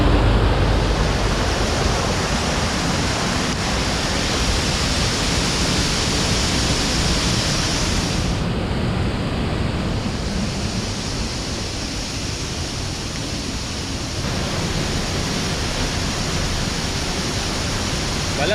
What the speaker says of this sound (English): So we are on top of Barkana Waterfall.